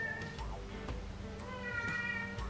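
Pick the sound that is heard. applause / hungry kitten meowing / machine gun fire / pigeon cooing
hungry kitten meowing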